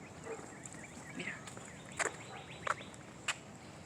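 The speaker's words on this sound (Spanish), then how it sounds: "ahí están los pajaritos por ahí." Birds call outdoors during a walk, a faint mix of short chirps and calls scattered over quiet background, with a few sharper, louder notes near the end.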